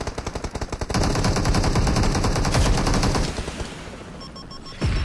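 Rapid heavy-weapon gunfire rattles in dense bursts in PUBG Mobile, loud and close, first as spaced shots, then as a continuous roar that tapers off before a final thump.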